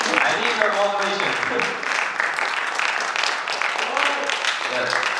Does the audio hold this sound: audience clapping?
yes